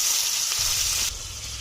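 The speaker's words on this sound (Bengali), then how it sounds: "এখন দিয়ে দিচ্ছি পেঁয়াজ কুচি" Chopped onions added to hot oil already holding dried chillies, bay leaf, whole garam masala and cumin, giving a loud, close, steady sizzle that changes in tone partway through, with no talking.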